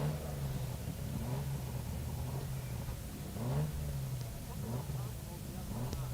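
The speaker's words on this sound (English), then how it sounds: "Can hear some revs being built, whether that's from the Nash or from somewhere else in the paddock." A vintage Frazer Nash sports car engine idles and builds revs in the paddock at a hillclimb, a low throbbing mid-pitched engine note that rises and falls repeatedly, fairly distant and faint beneath a commentator's voice.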